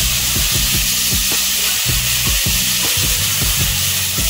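Noodles stir-fried in a pan: a loud, constant sizzling hiss with repeated rhythmic scrapes and knocks of a spatula against the metal, several per second, very close.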